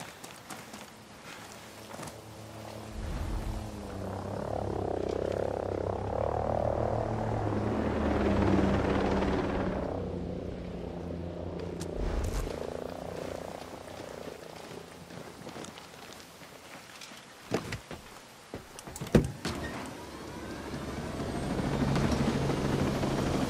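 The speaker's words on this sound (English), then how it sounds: "Chopper overhead. Stay low." A helicopter flies overhead in the video game Ghost Recon Breakpoint, its steady rotor thump swelling as it passes near and then fading, with sharp game effects and rustling later on.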